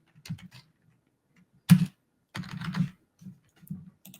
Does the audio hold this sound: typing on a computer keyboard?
yes